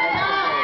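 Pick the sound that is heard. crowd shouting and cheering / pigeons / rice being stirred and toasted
crowd shouting and cheering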